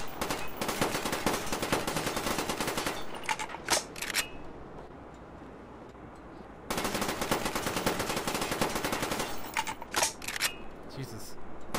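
AK-74 automatic gunfire in Call of Duty Black Ops, long loud sustained bursts of rapid shots with a quieter pause between them, then short bursts near the end, with a voice talking over the game.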